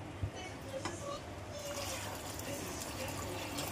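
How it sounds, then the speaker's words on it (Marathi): Water is poured into a pressure cooker holding rice and dal for matar dal khichdi, a soft, quiet running splash that grows fuller and continues steadily. "आता पाणी घालते मी"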